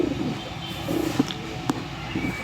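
Tumbler pigeons at a pigeon seller's place in Bangalore give soft, low cooing notes in a few short bursts, close by, over a quiet murmur of background noise.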